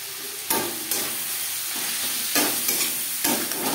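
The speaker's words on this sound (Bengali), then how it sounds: "লবণ হলুদ পেঁয়াজ টমেটো রসুনের সাথে বেশ ভালো করে মিক্স করে দেবো।" Onion, tomato and garlic with salt and turmeric stirred in a sizzling pan, with steady frying hiss and several scraping strokes of the spoon, close and fairly loud, no talking.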